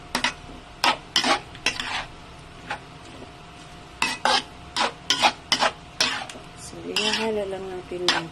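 Jackfruit cooking in coconut milk is stirred in a pot, producing repeated scraping strokes of a utensil against the pan over a low simmering sizzle, with brief talk near the end.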